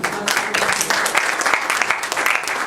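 A church congregation applauds at a Sunday worship service, with dense, continuous clapping from many hands that is fairly close and loud throughout, without talk.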